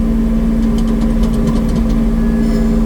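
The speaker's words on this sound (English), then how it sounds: "I'm trying to move the dirt now while it's loose, because once it packs down, then it's a little harder for this tractor to move it." An RK tractor engine runs steadily while moving loose dirt, with a loud, constant low drone and a hum held through the whole stretch, plus faint clanks near the middle. No one speaks.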